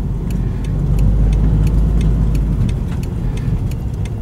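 A manual-transmission car pulls away from a stop using the half-clutch, its engine giving a steady, close low rumble with a faint ticking pattern throughout and no speech.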